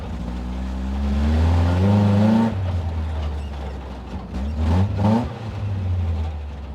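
A cheap Toyota rock crawler's engine revs and climbs in pitch as the truck drives off nearby, easing and then surging again, steady and loud throughout.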